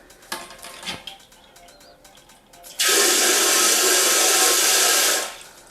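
A bidet on a toilet bursts into a loud, steady hiss of spraying water once its valve is turned on, holding strong for a few seconds before cutting off, after quieter clicks and handling noises.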